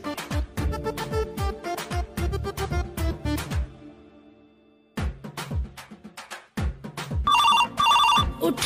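Mobile phone ringtone playing loud and close in bursts of bright, plucky melodic notes, briefly pausing twice before resuming, with no voices over it.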